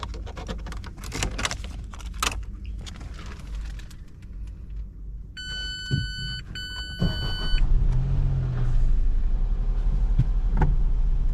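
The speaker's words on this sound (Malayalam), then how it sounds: "വണ്ടി ഒന്ന് സ്റ്റാർട്ടാക്കാം." Base-variant Citroën C3 with a 1.2 petrol engine: cabin clicks and warning chimes, then the engine cranks and fires midway and settles into a steady, low idle hum.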